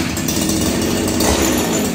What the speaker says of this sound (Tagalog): Sinamahan po niya ng chainsaw attachment, yung kanya chainsaw attachment